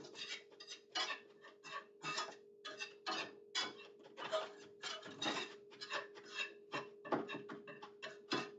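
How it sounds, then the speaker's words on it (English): A spoon scrapes and rasps rhythmically through a roux of grease and flour in a pot for gumbo, making steady, close, soft stirring strokes roughly every half second over a faint hum. "So we want to stir the roux until it's browned up"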